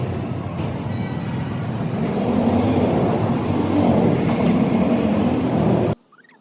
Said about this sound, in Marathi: पुण्याची ही ट्रॅफिक बघताय, केवढी ट्रॅफिक, बाप रे.